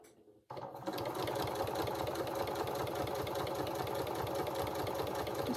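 After a brief quiet moment, a sewing machine starts up and runs continuously at a steady, rapid pulse while stitching the long hem of a dress, close and alone.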